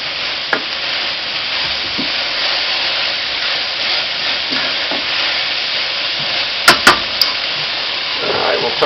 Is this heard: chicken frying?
yes